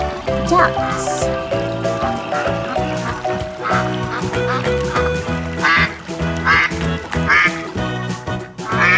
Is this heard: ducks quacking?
yes